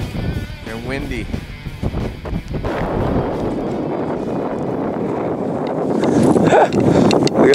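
Cold wind blowing across a California lake, a steady broadband rush buffeting the microphone, with someone talking briefly early on and gusts strengthening toward the end.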